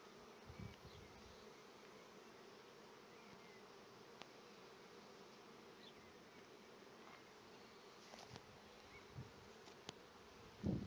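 A constant drone of many honey bees buzzing at a hive, moderately quiet and unbroken, with occasional faint clicks and knocks in the background.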